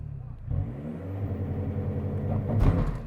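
A car idles with a low rumbling engine that builds toward a rev near the end, as if preparing a launch control start; voices talk faintly over the engine.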